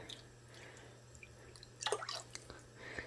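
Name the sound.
orange juice poured around a pork roast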